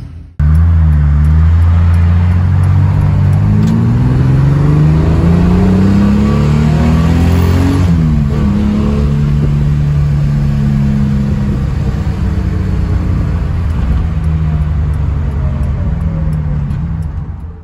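A 1972 Holden Torana LJ GTR XU1 barn find with its engine revving hard and close, a deep rumbling exhaust climbing and falling through several long sweeps before settling to a steady roar.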